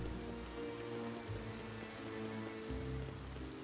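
Steady rainfall in the video game Luigi's Mansion 3, a soft, continuous patter of drops on surfaces with a low background hum, heard alone without voices.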